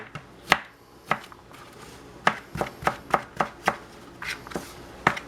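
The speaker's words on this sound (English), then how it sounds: "Now we're just gonna julienne them up, which is basically cutting little shoestrings out of them." Crisp knife strokes julienne-cutting cucumber on a board, a dozen or so sharp taps in an uneven rhythm, close and clear with no talking.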